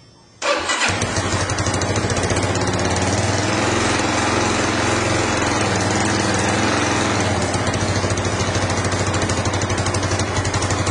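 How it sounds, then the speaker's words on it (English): A Lifan LF200-iii motorcycle engine with a modified carburettor jet fires up after a quiet moment, then settles into a steady, close, loud single-cylinder idle with no talking. "go ahead and start the bike and see what it sounds like"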